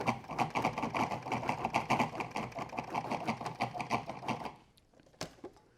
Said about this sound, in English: we want to pulse that first, just for a quick second, just to break that up